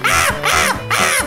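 A crow caws three times in a Shinchan cartoon, each call loud, harsh and close, evenly spaced with brief gaps between them.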